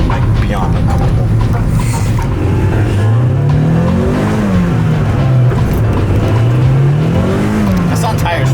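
A car engine drones loudly and steadily with tires spinning, its pitch rising and falling in slow sweeps under constant road and wind roar.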